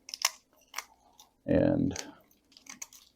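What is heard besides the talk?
cutting through bonsai roots and soil with shears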